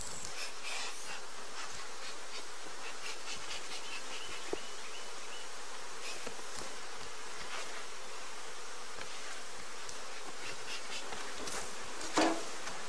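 Dense buzzing of many honeybees swarming nearby as combs full of bees are set outside the hive, a steady hum with occasional louder passes close by.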